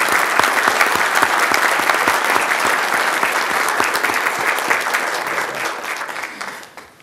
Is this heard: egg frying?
no